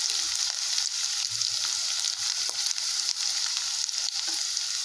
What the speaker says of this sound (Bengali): এর মধ্যে এবারে দিয়ে দিলাম পেঁয়াজ কুচি।